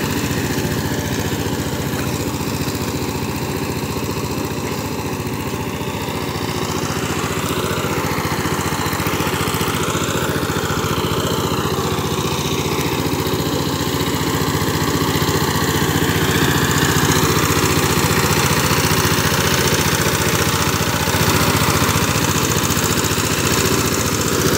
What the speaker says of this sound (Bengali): এভাবে এই পাওয়ার টিলার দিয়ে কাদা জমি চাষ করা হয়।